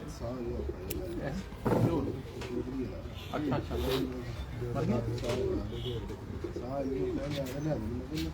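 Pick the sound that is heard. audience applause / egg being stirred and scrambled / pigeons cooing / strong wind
pigeons cooing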